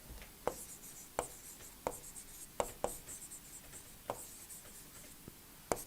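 Handwriting during an engineering lecture, a steady faint scratching with a sharp tap every half second or so as each stroke lands, close and without talk.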